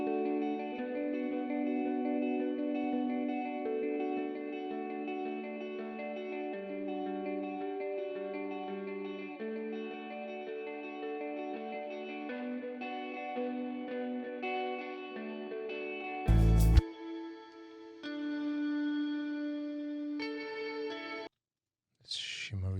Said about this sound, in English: It's shimmer reverb.